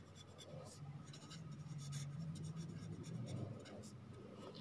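A number written by hand on paper, a soft continuous scratch of pen strokes close by, quiet and steady, over a low room hum.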